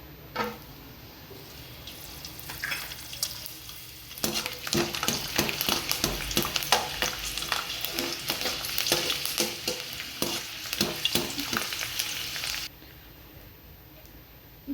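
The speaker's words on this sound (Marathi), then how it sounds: "लसूण तळून घेऊयात" Garlic sizzling and crackling in hot oil in a home kitchen while crisp spiced chivda is prepared, a steady loud fry with stirring scrapes, beginning quietly and swelling into dense spitting bursts before cutting off near the end.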